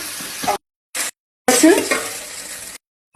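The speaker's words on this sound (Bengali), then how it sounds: "নুন দিয়ে ফেটিয়ে নিয়েছি, ছেড়ে দিলাম এইভাবে, এরকম ভেজে দিলাম" Salted beaten egg hits hot oil in a pan and fries, giving short bursts of loud close sizzling broken by gaps of silence, with light clinks of utensils.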